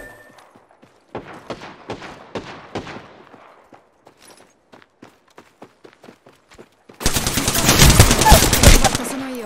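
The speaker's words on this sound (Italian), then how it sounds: "Sto aprendo il fuoco sul nemico." Gunfire from an Apex Legends match: a string of sharp single shots, then sparser taps, ending in a loud sustained burst of automatic fire at close range.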